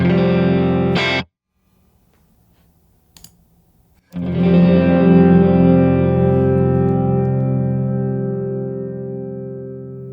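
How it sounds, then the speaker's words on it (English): Electric guitar chords ring out dry and close inside a nuclear power plant, a strummed chord cut off, a pause with faint noise, then another chord left to sustain and fade. "So this is the bone dry guitar sound."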